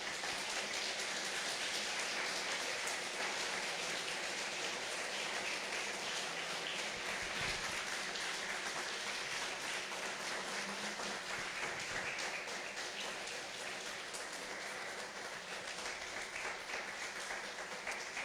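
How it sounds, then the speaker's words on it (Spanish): A congregation at a church service applauds steadily and loudly, a dense, even roar of many hands clapping that holds for the whole stretch without talk. "Dale un aplauso al Señor."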